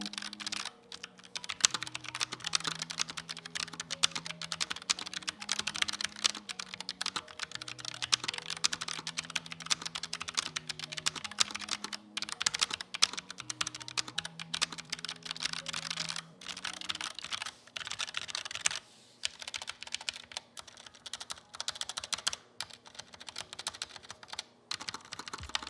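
Rapid steady typing on a Tecware Phantom L low-profile hot-swap keyboard with brown switches, dense close-up key clacks over a soft background melody, thinning out toward the end.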